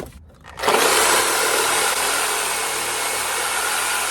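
A cutting tool bites into a suspension bushing on a 2001 Ford F150, jumping from near quiet into a loud, continuous, harsh grinding whine that holds steady to the end.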